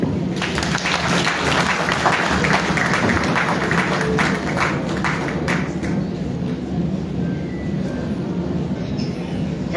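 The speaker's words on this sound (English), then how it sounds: "Let's give a bigger round of applause" Sustained applause from an audience at a formal government ceremony for an official census results release, a dense, steady wash of clapping that holds for several seconds before gradually thinning out.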